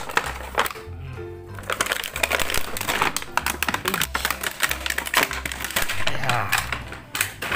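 Plastic packaging crinkles and crackles in dense, uneven bursts as a toy race car is unboxed, over a low rhythmic musical background with talking mixed in.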